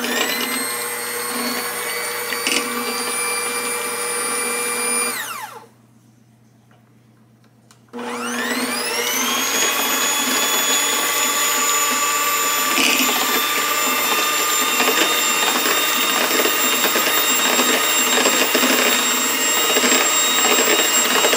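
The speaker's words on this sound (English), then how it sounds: "we're just going to give that a little whisk with our beaters here" Electric hand mixer beaters whisk sheet pancake batter of butter and other ingredients, a loud steady motor whine that stops briefly for about two seconds, then restarts and runs continuously.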